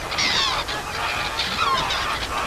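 Birds call at dawn in Queen Elizabeth National Park, a dense chorus of honking, goose-like cries that overlap steadily over a constant outdoor background hiss.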